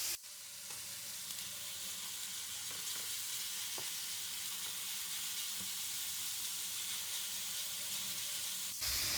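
Onions sizzle steadily in hot oil in a pan, with garlic ginger paste stirred in, for a spicy fish karahi; a close, even hiss runs throughout and a brief louder burst comes near the end.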